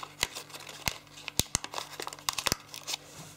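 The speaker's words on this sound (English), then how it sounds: "Fold in half. And then fold that behind." Paper folded and creased by hand for an origami rose, with close, crisp crinkles and sharp snapping creases in an irregular run, with no talk.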